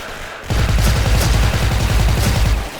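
A white-camo AK74 fitted with a suppressor in the shooter game Special Force fires in loud, continuous automatic bursts, a rapid, evenly spaced stream of shots lasting over two seconds after a brief quiet start.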